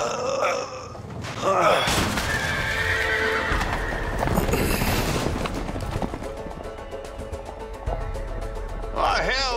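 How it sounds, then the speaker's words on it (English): Several horses neigh and whinny loudly as they break loose and gallop with thudding hooves in the game A Way Out, mixed with grunts, clatter and people talking. "Oh, hell, the horses are escaping"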